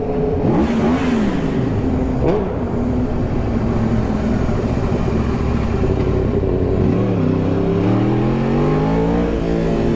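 A 10R superbike engine revs hard while riding, its pitch climbing and dropping through repeated throttle bursts over a steady rumble, loud and close with no talk.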